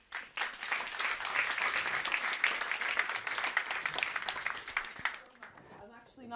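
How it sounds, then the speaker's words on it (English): An audience applauds a keynote speaker at a talk, a sustained wash of many hands clapping that swells and then fades out near the end. "Please give her a round of applause."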